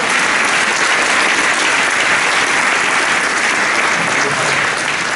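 Dense, loud, continuous applause fills a large audience at a Catholic healing service in Rancagua, Chile, a steady wash of many hands clapping together with no voices on top.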